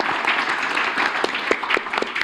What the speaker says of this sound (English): Please give applause to our panelists here.